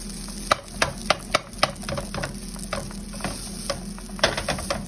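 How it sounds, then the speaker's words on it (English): Food frying in a pan on a home stove, stirred with repeated scraping clacks of a utensil over a steady sizzle, close and moderately loud. "Then kind of mix it together, get all of it around. Let it cook up, let it fry up."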